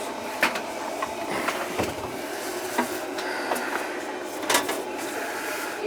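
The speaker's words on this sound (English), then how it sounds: "There's the boiler." A home heating boiler runs in a house that keeps calling for heat. A steady mechanical hum carries repeated sharp clicks and rattles at irregular intervals, heard up close.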